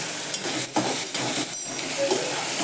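Dal sautés in oil with onions, a close, steady sizzle overlaid by a few scraping and clinking stirs of a spoon against the pan, no voices.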